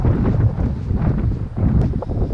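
Gusty wind buffets the microphone outdoors in the Ettrick Valley along the Southern Upland Way, a loud, rough, low roar that rises and falls in uneven surges with no voices.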